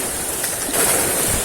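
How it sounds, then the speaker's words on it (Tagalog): Ocean waves surge at a fishing spot, a broad windy wash of surf that swells louder partway through, with no talking. "lumakas ang alon"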